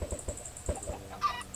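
A chicken in the video game Minecraft gives a few short, quiet clucks in quick succession, with no talking over them.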